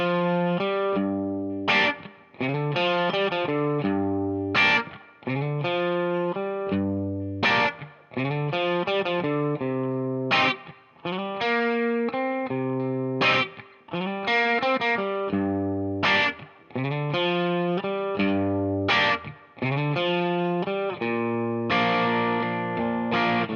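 Electric blues guitar with a distorted, effects-laden tone plays a 16-bar blues: punchy bent notes and short phrases separated by brief pauses, close and loud, with no voice.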